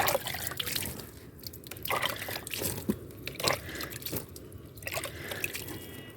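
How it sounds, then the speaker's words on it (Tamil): Water sprinkled onto potting soil sown with fenugreek, a scattered run of soft drips and light splashes, fairly close and steady, with no voices. "தண்ணி தொளிச்சு விட்டுலாம்"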